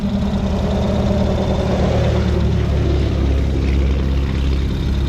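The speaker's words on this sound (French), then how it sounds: "maintenant il y a les chasse-neige qui passent" Snowplow trucks pass along the Alaska Highway in winter, a loud, steady low engine and tire roar that holds constant throughout without breaks or talk.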